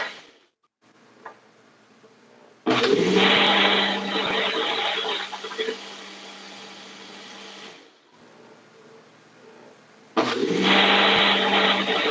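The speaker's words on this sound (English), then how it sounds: "you don't have a juicer, just use a blender" A Ninja blender with IQ technology whirs loudly in two runs, a long steady blast then a quieter stretch and a second burst, with a low hum underneath and no talking.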